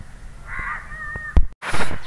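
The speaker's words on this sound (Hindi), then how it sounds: "वो मुझे देख के ना सारे काएं काएं करने लगे" Crows caw repeatedly outdoors on a cold morning, harsh calls rising in a loose series and building to a loud, close burst near the end, with a sharp knock partway through.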